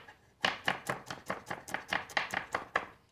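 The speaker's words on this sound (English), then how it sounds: "And then you turn your knife over and you chop." Garlic is chopped with a big knife on a board in a quick series of about a dozen sharp, evenly spaced knocks, close and clear with no talking.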